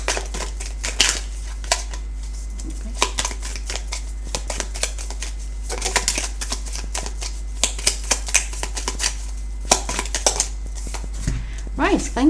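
Divine direction oracle cards are shuffled by hand in close, quick bursts of riffling and flicking, with pauses between, while someone speaks softly over a steady low hum.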